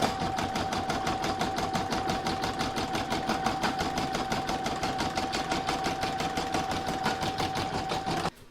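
An embroidery machine stitches the border of a reversible acorn placemat in a hoop, a rapid, even, continuous needle rhythm that runs close and steady before stopping abruptly near the end.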